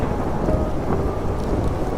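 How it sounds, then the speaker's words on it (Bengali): Heavy rain pours down alongside a deep rumble of thunder in a stormy night scene, a dense, loud, steady wash of sound throughout with no voices. "বৃষ্টি কমার কোনো নামই নিচ্ছিল না ঝমঝম করে হয়েই যাচ্ছিল বৃষ্টি"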